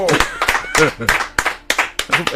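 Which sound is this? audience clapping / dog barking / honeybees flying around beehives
audience clapping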